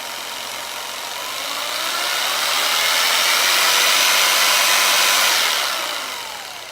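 A Jigsaw percussion massager runs with a steady, close, high-pitched motor whir that swells louder and then eases off slightly, with no other sounds.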